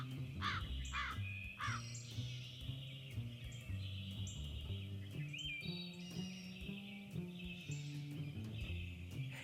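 A crow caws several times in harsh, rasping bursts, moderately close, over a steady musical backdrop.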